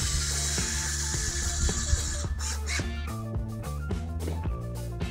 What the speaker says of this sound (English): We're going to take one lag screw at a time and using a 3/8 inch drive bit